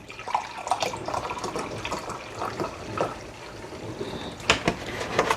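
Apple cider vinegar and white vinegar pour steadily into a pot for sweet pickled peppers and onions, a continuous close liquid splashing with small gurgles and no talking.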